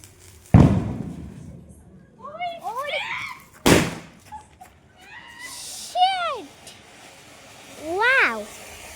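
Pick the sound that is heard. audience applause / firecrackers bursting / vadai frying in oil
firecrackers bursting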